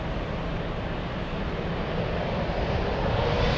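A jet airliner taxiing toward the runway at Frankfurt airport, a steady broad engine roar with wind rumble that swells slightly toward the end.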